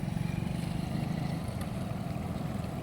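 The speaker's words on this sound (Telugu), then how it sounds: "చూడండి ఎంత ఫోర్స్గా వస్తున్నాయి వాటరు" Floodwater rushes forcefully down a road near Bheema Lingam outside Hyderabad after heavy rain, a loud, steady, close roar of churning water with no voices.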